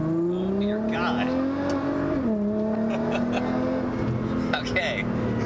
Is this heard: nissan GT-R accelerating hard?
yes